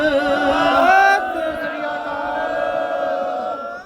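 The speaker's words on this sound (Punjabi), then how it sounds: "ਜਕਾਰਾ ਜਿਹੜਾ ਹੈ ਉਹ ਗੱਜ ਕੇ ਕਰੋਣਾ ਬੋਲੇ ਸੋ ਨਿਹਾਲ" A congregation of Sikhs at a gathering roars the jaikara response "Sat Sri Akal" in unison, a loud sustained group shout that tapers off over a few seconds.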